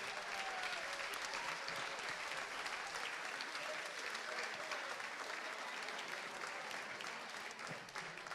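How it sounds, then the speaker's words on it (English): A roomful of guests at an annual charity gala and auction at a ranch break into steady, continuous applause for the bidders and buyers, a soft, distant wash with a few murmuring voices mixed in. "would you give everybody that bid tonight a round of applause and that bought tonight?"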